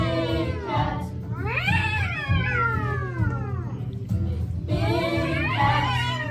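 Cartoon big cat yowling in long, wavering, rising and falling cries, loud and close, with a short pause before a final yowl.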